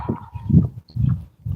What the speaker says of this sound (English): You hear them dogs barking, right?